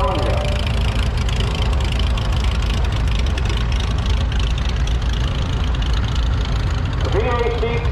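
A 1948 VACK parade vehicle idles with a steady, low rumbling engine under continuous crowd noise and background talk, the loudness holding even throughout.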